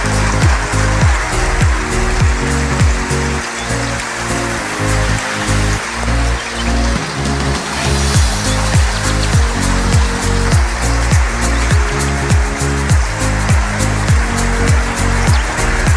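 Steady July rain patters down continuously on a ranch yard, with dense droplet hits and occasional heavier drips splashing nearby, no voices present.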